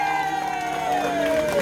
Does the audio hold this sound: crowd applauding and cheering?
yes